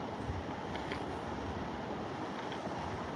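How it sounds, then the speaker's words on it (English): Gusty wind buffeting a microphone at a trout-fishing spot at 7 Springs Resort in Pennsylvania, a constant low rumbling roar with no one talking. "Too windy."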